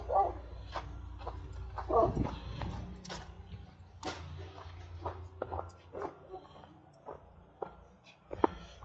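A dog barks a few times at a distance outdoors near a tree, with scattered sharp yelps over a quiet background along with some faint handling noises.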